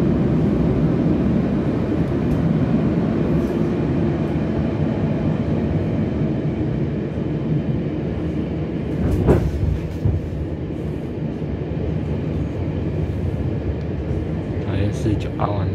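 An E240 electric locomotive hauls an eight-car Fu-Hsing express on Taiwan's Hualien–Taitung line, making a loud, steady rumble and rolling roar that stays close and constant throughout.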